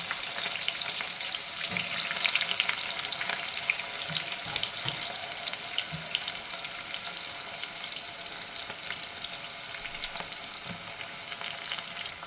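Onions fry in a pan for vegetable pulao, producing a steady, close sizzling hiss with scattered crackles and light stirring throughout.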